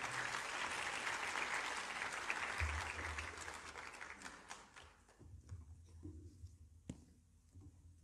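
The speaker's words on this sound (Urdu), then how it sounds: "ہم سب تالیوں کے ساتھ ان کا استقبال کریں گے۔" A church congregation applauds to welcome a preacher to a sermon, a dense sustained wash of clapping that thins out and fades toward the end, with a few scattered claps lingering.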